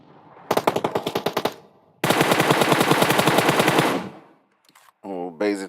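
Automatic gunfire in a PUBG Mobile esports match, loud rapid bursts with a short burst followed by a longer sustained spray, then a brief pause and some other game sounds at the end.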